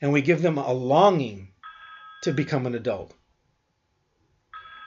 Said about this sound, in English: So I guess that's my phone.